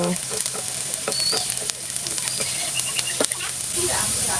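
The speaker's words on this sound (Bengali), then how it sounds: "এগুলোকে এবার আমি হালকা ব্রাউন কালার করে ভেজে নেব" Chopped onions and chillies fry in soybean oil in a pan, giving a steady, close sizzle with scattered crackles and pops throughout.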